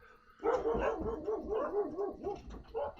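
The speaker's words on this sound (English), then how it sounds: "Dogs barking again." A dog barks in a quick, repeated series of loud, close yips and bow-wows, with brief pauses between volleys and no talk over it.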